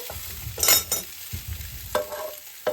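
Frozen shrimp balls sizzle in a hot, smoking pan, a steady crackle of frying broken by several sharp bursts as they are stirred and flipped.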